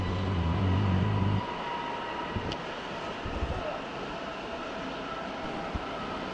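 An S-Bahn train runs in the background near Munich, a steady broad rumble and rail hiss over several seconds, with a deeper low hum at the start.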